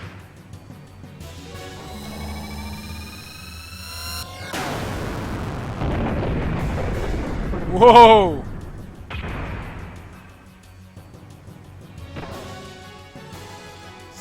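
The Yggdrasil transforms into a giant cannon and fires its Distal Cannon in Xenogears. A rumbling, heavy blast swells over several seconds, then fades into game tones and effects, and a voice reacts briefly during the sequence.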